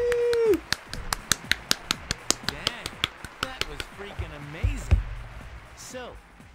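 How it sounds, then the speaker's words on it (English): Sharp, evenly spaced claps from a character in Persona 3 FES ring out in a steady run of about twenty quick smacks, loud and close, with game voices and tones around them. "Sorry, I didn't mean to freak you out with my clapping."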